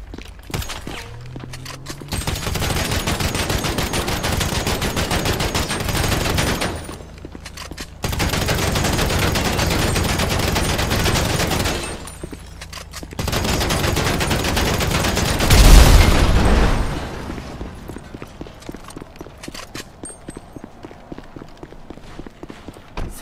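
Suppressed gunfire in the video game GTA V rattles in long continuous bursts of rapid muffled shots, three sustained volleys separated by brief pauses, loud and close, ending with a heavier thump before the firing trails off.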